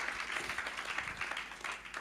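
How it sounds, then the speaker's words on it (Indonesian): Congregation applauding during a church service, a fairly faint, steady patter of hand clapping in a reverberant hall. "Berikan tepuk tangan buat Tuhan."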